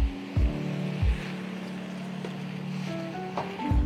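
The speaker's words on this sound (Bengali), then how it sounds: "এইবার দিয়ে দেব প্রয়োজন মতন জল।" Water pours into a pot of cooking masoor dal as a steady, fairly loud gush, with a few clunks of the vessel at the start and end, and no talking.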